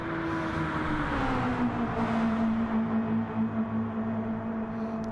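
A Ford Mustang and a Subaru WRX drag race side by side in GT Sport, their engines holding a steady, droning roar whose pitch slowly drops, with no gear changes standing out.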